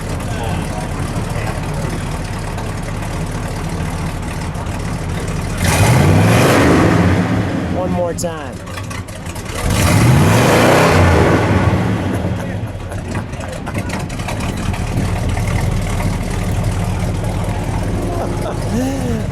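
A 1971 Chevrolet Monte Carlo SS with a factory 454 V8 idles with a lumpy, loping note, then two strong revs swell and fall away at close range, with brief talk in between.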